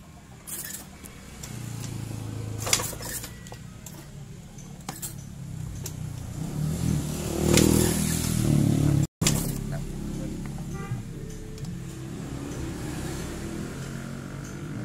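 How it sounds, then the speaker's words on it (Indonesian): Yamaha scooter with lost ignition being kick-started, its engine cranking in repeated low rumbling bursts that run steadily close by, with people talking over it. "kita minta bantuan engkol ya"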